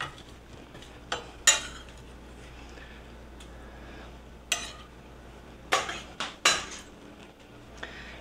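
Crushed garlic stirred in a pan for an oxtail stew, with a few scattered clinks and scrapes of a utensil against the pan over a quiet background, close and without talk.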